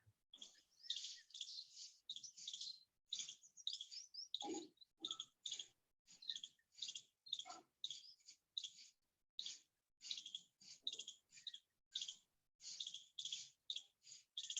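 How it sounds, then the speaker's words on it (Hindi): Birds chirping and a squirrel calling outdoors: bright, rapid chirps and twitters come in steady bursts throughout, with an occasional lower, harsher call mixed in, fairly faint and without any talk. "बस मुझे तो ये आवाज सुनाई दे रही है गिल्लरी की और पंछी की।"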